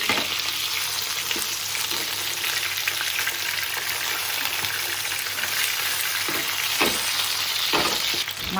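Tilapia fish frying in hot oil in a pan, a steady dense sizzle throughout with a few sharper crackles and spits near the end, close and continuous with no talking.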